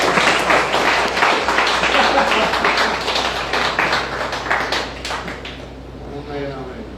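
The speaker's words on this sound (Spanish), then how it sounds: "Ahora si quieren aplaudir." Audience applause at a Spanish-language Torah portion teaching, a dense, fairly loud wash of clapping that carries through most of the stretch before thinning and fading toward the end.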